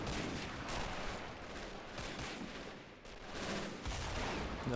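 Dense battlefield gunfire from the Men of War Assault video game, in a German hill fort siege. Overlapping rifle cracks and machine-gun bursts form a continuous, loud barrage with no pauses.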